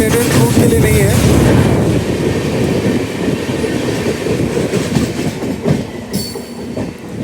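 Onboard the Rajdhani Express, a long-distance Indian passenger train, the carriage produces a loud continuous rumble of wheels on rails, with rattling and faint clickety-clack throughout and a brief high squeal near the end.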